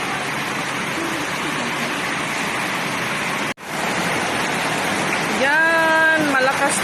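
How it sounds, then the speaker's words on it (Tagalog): Heavy rain pours in a loud, unbroken roar during a birthday gathering, briefly cutting out for a moment midway. Near the end a person speaks over the downpour. "Malakas po yung ulan"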